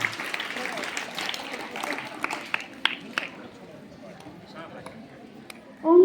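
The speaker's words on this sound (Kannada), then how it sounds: "ಜೋರಾದ ಚಪ್ಪಾಳೆ ಮುದ್ದು ಮಕ್ಕಳೇ." Applause from children at an Independence Day school gathering, moderate clapping early on that thins into scattered claps and quiets, with a brief louder burst at the end.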